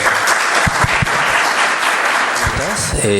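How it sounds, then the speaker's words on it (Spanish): An audience at a safety culture presentation for Minera Yanacocha breaks into strong applause after the talk, a loud continuous wash of many clapping hands, with a voice speaking over it near the end. "Fuerte aplauso."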